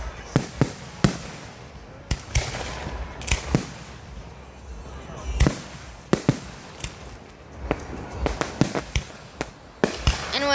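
Fireworks burst outdoors in a long irregular series of sharp, loud cracks and booms, some in quick clusters and others spaced apart, with rumbling echoes in between.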